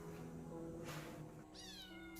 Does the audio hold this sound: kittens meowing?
yes